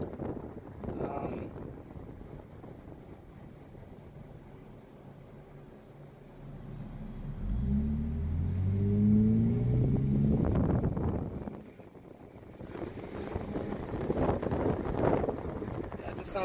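Lexus GS300 with its mufflers deleted, the exhaust droning in a steady low rumble that swells through the middle as revs rise, with wind noise over the microphone and a quieter stretch toward the end.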